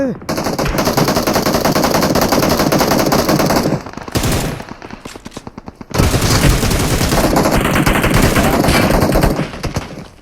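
Loud, close automatic gunfire in PUBG Mobile, with long rapid bursts. Near the middle comes a clearly rhythmic stretch of evenly spaced single shots, then the heavy firing resumes.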